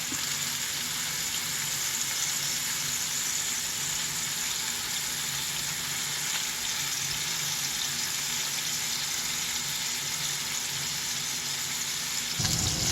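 Burger patties fry in a hot pan with a steady, dense sizzle and crackle that holds evenly throughout, close and fairly loud, with a brief knock near the end.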